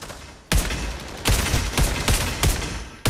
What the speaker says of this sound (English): Dude, this gun sucks!